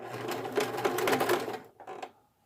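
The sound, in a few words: sewing machine sewing swimsuit fabric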